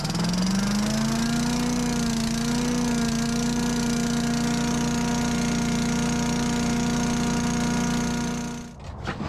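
A small engine idles steadily for several seconds, close and loud, warming up before an oil change; the machine is one that burns oil, and the steady drone cuts out abruptly near the end.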